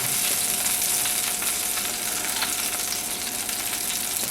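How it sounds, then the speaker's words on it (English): Hot grease crackles and pops steadily while chicken fries in a KFC-style trial batch, a dense continuous sizzle with scattered sharp pops, close and fairly loud, with no talk. "grease is popping"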